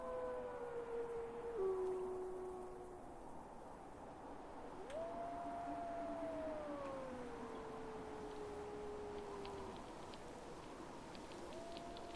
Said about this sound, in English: Can hear the wolves in the background.